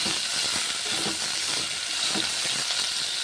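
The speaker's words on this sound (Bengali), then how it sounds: "উচ্ছেগুলো কড়াইয়ের মধ্যে ছেড়ে দিচ্ছি ভেজে নিচ্ছি উচ্ছেগুলোকে প্রথমে ভেজে নিচ্ছি গরম তেলে" Bitter gourd pieces fry in hot oil in a wok, giving a steady, close sizzle and bright crackling hiss throughout, with no voices.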